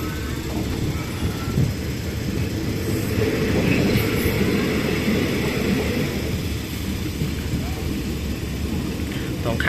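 Steady rumbling and clattering of a Thai train, No. 255 on the Chumphon–Lang Suan line, rolling along the rails, a continuous broadband roar heard from inside the carriage, with faint voices beneath.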